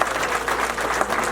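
Wedding guests clapping at a Rwandan wedding celebration, a brief burst of continuous crowd applause, fairly close and steady.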